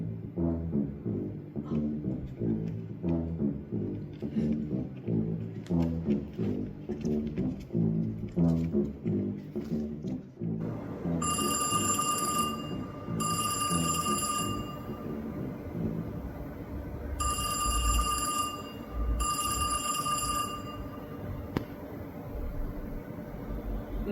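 A telephone rings in bursts, two short rings, a pause, then two more, shrill and clear, following a stretch of rhythmic music with no speech.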